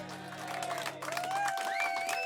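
Audience clapping and cheering at a live music show spreads through the room, blending with lingering sustained musical tones that fade as the applause continues.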